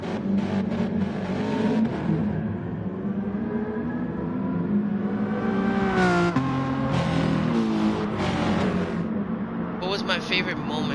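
Race cars accelerate together at the start of a race in Gran Turismo 3, their engines droning loudly and rising steadily in pitch, with a sharp gear shift midway and an announcer's voice heard over the roar.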